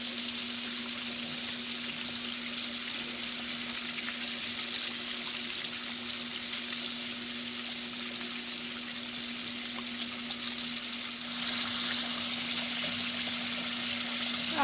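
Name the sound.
chicken leg quarters sizzling while frying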